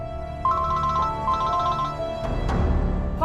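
A telephone ringtone trills in a domestic scene of a Pakistani TV drama, two electronic warbling bursts of repeated chirps, moderately loud and close, followed by a thud and low rustling.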